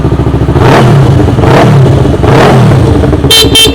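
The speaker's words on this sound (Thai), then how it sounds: "เดี๋ยวเราฟังเสียงเครื่องยนต์ กันบ้างดีกว่า" A 2015 Yamaha YZF-R3 sport motorcycle with an aftermarket exhaust revs hard and loud up close, its pitch rising and falling in repeated throttle blips, ending with a couple of short high tones.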